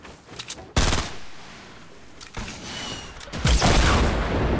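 Several sharp bursts of rapid gunfire in the video game Fortnite Battle Royale, loud and close, separated by brief lulls with rumbling background noise.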